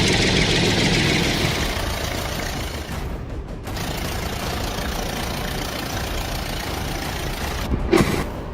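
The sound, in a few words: tractor with trailer engine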